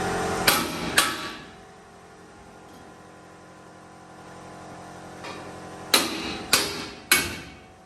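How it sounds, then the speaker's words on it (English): A big hammer strikes metal on a monster truck chassis during modification, sharp ringing clangs, two early blows then three more spaced ones, close and loud in a workshop. "Big hammer, and it should come off."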